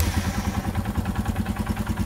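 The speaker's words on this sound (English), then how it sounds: "Now let's start the bike." A Royal Enfield Himalayan motorcycle's single-cylinder engine idling after a cold start, a close, steady rhythmic thump with mechanical clatter and no speech.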